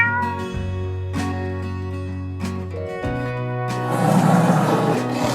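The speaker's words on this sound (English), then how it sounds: "Cat mew." A cat mewing in a few drawn-out, wavering calls up close, over continuous background music that grows busier toward the end.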